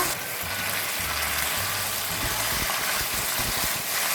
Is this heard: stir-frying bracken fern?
yes